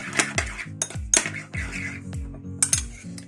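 Finely chopped coriander and garlic mixed into butter in a bowl, with a spoon repeatedly clinking and scraping against the bowl in a quick, uneven rhythm, close and fairly loud.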